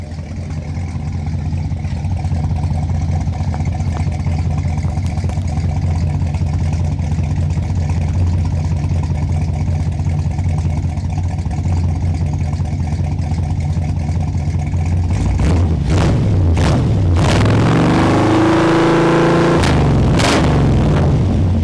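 1955 Ford engine with a Holley 4000 carburetor running at the exhaust pipe, a loud steady low rumble for about fifteen seconds, then a few sharp revs and fluctuating throttle.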